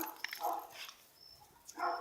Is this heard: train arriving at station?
no